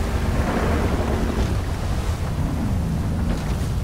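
Stormy ocean in GTA 5, with heavy waves, swells and strong wind roaring continuously around a coast guard boat out at sea, loud and close with buffeting gusts.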